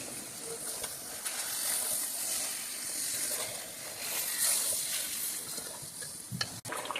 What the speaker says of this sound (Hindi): इसको अच्छी तरह भून लेना गोश्त को इसमें